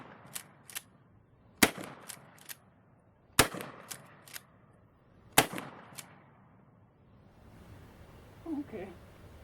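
A 12 gauge shotgun fires slugs: three sharp, loud blasts come a couple of seconds apart, with fainter cracks in between and a quieter stretch at the end.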